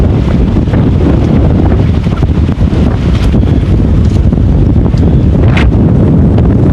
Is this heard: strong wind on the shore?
yes